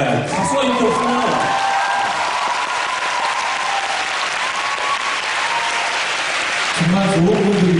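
A concert audience claps and cheers loudly and continuously, a dense wash of applause with voices briefly audible at the start and again near the end.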